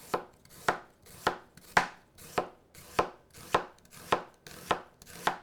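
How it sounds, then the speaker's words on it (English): A knife chops an onion on a flat cutting surface in a steady, even rhythm of about ten sharp, close strikes, each with a brief thud, heard alone with no voices. "You don't want to cut the onion while it's rocking."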